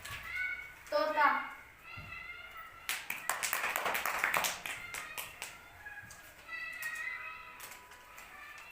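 Children clap together in a classroom word game, rewarding correct answers with a brief burst of ragged claps in the middle, surrounded by a voice and other young voices.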